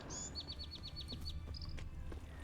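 Songbirds chirping in Toussaint, a region in the video game Witcher 3 Blood and Wine: a quick run of repeated high tweets and a few short calls over a steady low ambient hum, with no talking.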